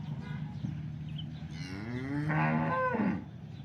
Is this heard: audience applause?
no